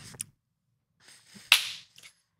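A single sharp hand clap marks the start of a podcast recording, standing out loud and crisp after a few faint taps and small noises in an otherwise quiet room.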